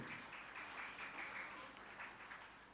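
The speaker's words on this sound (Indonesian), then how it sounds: "Tingkatkan sekali lagi tepuk tangan untuk Al-Furqan" Quiet applause from an audience at an Entrepreneur Day opening ceremony, a soft, continuous patter of many hands clapping, fairly distant and steady throughout.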